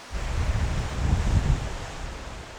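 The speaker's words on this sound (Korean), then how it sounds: "여기 파도 치는 소리 들리니까 너무 좋다" Steady wash of Mediterranean surf heard from a cruise, a soft rushing roar that swells briefly and eases off, with no voices.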